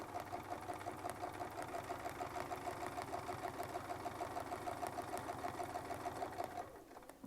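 A sewing machine stitches a quilting design along a Westalee Spin-E Fex 11 ruler, a rapid, even mechanical rhythm that runs steadily and then stops near the end.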